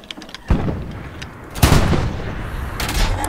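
Artillery shells from a Hell Let Loose gun team firing at El-Alamein, two heavy booming blasts about a second apart with rumbling decay and a third, fainter thump at the end.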